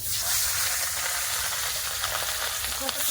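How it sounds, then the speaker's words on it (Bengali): Fish slides into hot oil in a wok and fries with a continuous, close, crackling sizzle and hiss throughout, fairly quiet overall and with no talking. "মাছ ভাজার জন্য এখানে কড়াই তেল দিয়েছি এবার তেল গরম হয়ে গেছে মাছ ছেড়ে দেবো"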